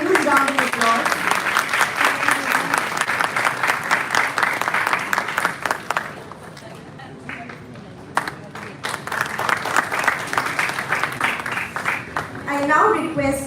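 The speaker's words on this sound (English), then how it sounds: "Let us have a huge round of applause." A large audience applauds at a university felicitation ceremony, loud clapping that briefly thins midway before swelling again, with faint voices underneath.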